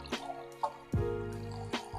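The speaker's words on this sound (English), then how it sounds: "gotta pour this back in to measure the full volume" A boba drink is poured back into a cup: a few soft, close drips and a brief splash of liquid, quiet and alone.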